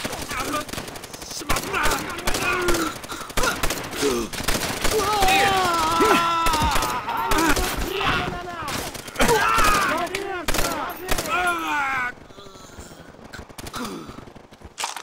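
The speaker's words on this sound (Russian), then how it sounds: "Откуда был выстрел?" Call of Duty: World at War firefight with dense bursts of machine-gun and rifle fire, sharp and continuous, mixed with soldiers' shouts, grunts and gasps.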